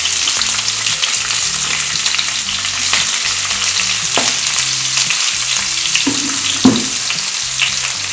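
Dried red chillies frying in hot oil for a kappa fish curry, a loud continuous crackling sizzle with periodic scraping and stirring knocks of a spoon against the pan throughout, no voices.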